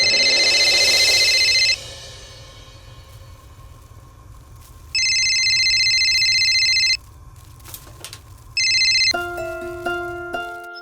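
An electronic phone ringtone chimes in repeated bright bursts during a tense Indian TV drama scene, over a steady low hum, before a different stepped melodic tone takes over at the end.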